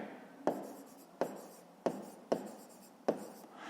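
A pen scratches across paper in five short strokes at a steady, close rhythm, each starting with a sharp tap and trailing off, heard alone and quiet.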